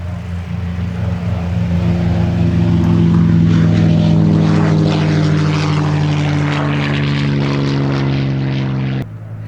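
Two Hispano Buchon propeller fighters drone past at an air show, a loud sustained piston-engine roar with layered harmonics that swells and holds before cutting off abruptly near the end.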